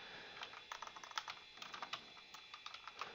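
Quiet, rapid keystrokes on a computer keyboard, a steady run of light clicks with small pauses and no talking.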